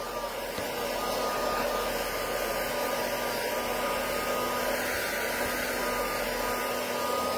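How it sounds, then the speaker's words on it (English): A handheld craft heat tool drying freshly painted paper, a steady loud whooshing blower hum held at constant pitch, close and continuous with no talk. "I'm gonna hit these really quickly with a heat tool just to get them dry."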